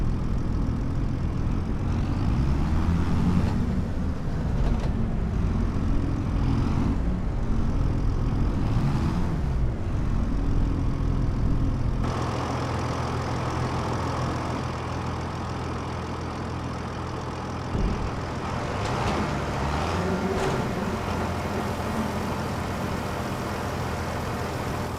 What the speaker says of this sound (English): Drive the trailer over the tip area and unload